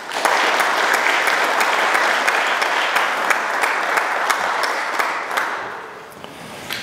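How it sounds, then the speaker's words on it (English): An audience at a school winter signing ceremony claps steadily for about six seconds. The applause is dense and close, then thins out and fades near the end. "you may applaud after each introduction"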